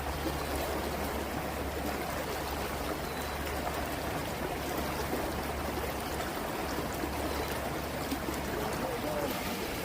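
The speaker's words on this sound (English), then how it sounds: "I think we got some good running water down there" Water runs steadily through Bear Creek at Prospect Park in Wheat Ridge, a constant broadband rushing and trickling that stays even and close throughout.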